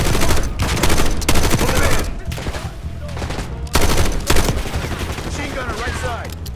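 Sustained machine gun bursts and a heavy fusillade of gunfire in Call of Duty: Black Ops 6, loud and dense, with brief lulls and voices mixed under the shooting.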